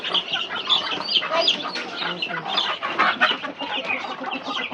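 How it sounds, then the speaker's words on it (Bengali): A group of backyard chickens cluck continuously nearby, overlapping calls forming a steady, moderately loud chatter with no one talking. "দেখেন এইখান দিয়েই সারাদিন থাকে মুরগিগুলো"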